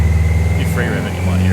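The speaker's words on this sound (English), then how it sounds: "See that noise? Sounds like 3 cylinders now." A damaged car engine on a dyno runs rough on three cylinders, a loud, uneven, throbbing idle close by, with a voice talking over it.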